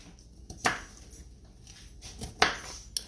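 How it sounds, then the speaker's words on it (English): A knife chopping salad ingredients on a cutting board, a few separate sharp knocks spaced unevenly against quiet room background. "I'm just going to chop it up."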